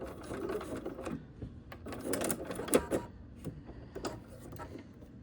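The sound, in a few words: sewing machine back stitching foundation paper pieced quilt block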